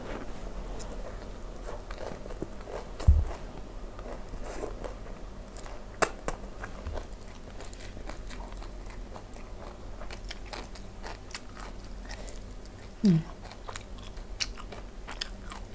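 Someone eats som tam with long rice noodles and thick-cut salmon, chewing and biting close to the mic with soft wet crunches and a couple of louder bites. No one talks.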